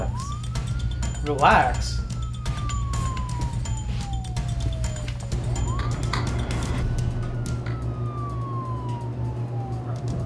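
A police siren wails in long rising and falling sweeps, moderately distant, over a low engine hum, with a brief spoken word.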